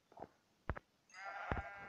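Sheep in the Minecraft Pocket Edition video game bleat several times in short bursts, close and fairly clear, followed by a longer, wavering bleat.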